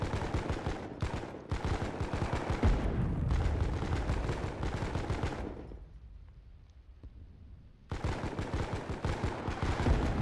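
Artillery and gunfire in a Foxhole war game rumble and crack in dense, repeated bursts, fading to a quieter gap with scattered distant booms before the heavy barrage resumes.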